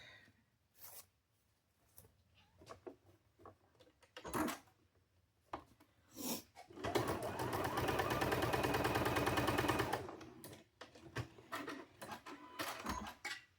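A sewing machine runs a quick seam through quilting fabric, a steady whirring rattle of fast stitches lasting about three seconds. Handling noises and fabric rustles come before and after, close by and fairly quiet.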